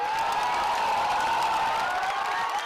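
Crowd at an outdoor political rally in Sheohar, Bihar, clapping and cheering: a dense, unbroken roar of massed applause and voices that holds at full loudness throughout.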